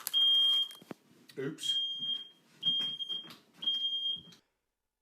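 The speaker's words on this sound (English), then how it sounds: "Apparently it's set the smoke alarms off." A smoke alarm beeps loudly in repeated high-pitched chirps, four bursts in a row, while a person talks and exclaims between them.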